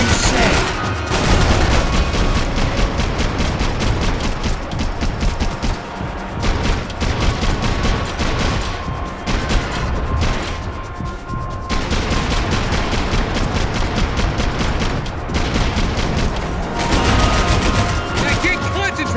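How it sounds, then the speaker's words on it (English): Dense gunfire from a Max Payne 3 firefight, with sustained bursts, rapid shots and occasional booms running loud and nearly continuous, while game voices and music sit underneath. "I can't concentrate with bullets whizzing past my head."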